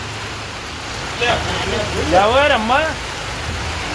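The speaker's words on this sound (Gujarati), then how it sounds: "વરસાદ ચાલુ થઈ ગયો હે" Rain falls steadily outdoors in Patan during a Navratri evening, a broad constant hiss lying under children's and adults' voices that come and go nearby.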